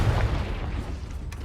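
A Confringo blasting spell from the Hogwarts Legacy video game goes off as a low, rumbling boom that rolls on briefly, with no talking.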